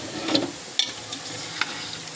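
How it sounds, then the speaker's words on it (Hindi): Meat goes into browned onions for biryani, giving a soft sizzle broken by a few clinks and scrapes of a stirring spoon, quiet and close with no talking. "चलो प्याज हो गई है ब्राउन, तो अब इसमें डालेंगे हम गोश्त।"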